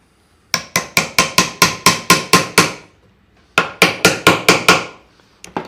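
Hammer driving nails into recycled pallet wood while building a small stool: a run of about nine sharp, evenly spaced strikes, a brief pause, then about six more, loud and close with no talking.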